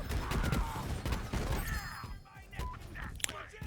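Rapid gunfire from Moze's weapon in the video game Borderlands 3 crackles as a dense, loud fusillade under game effects, easing briefly before more shots and sparkly tones.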